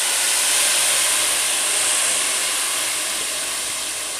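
Boiled masala paste, added after cumin, fries in hot oil for Lahori chana, giving a steady, loud, broad sizzling hiss that holds evenly and eases slightly toward the end, with no voices.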